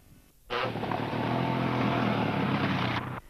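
A rally motorcycle, Brian Eland riding for the KTM team on the last stage of the 1998 Cambrian Rally, roars past close by with a sustained loud engine note that cuts off abruptly after about three seconds.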